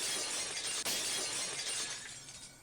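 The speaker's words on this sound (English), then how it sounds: "The unpleasant piercing sound of shattered glass" Glass shatters loudly in a sharp burst, followed by a sustained bright crunching and tinkling of broken shards that slowly fades over a few seconds, with no voices.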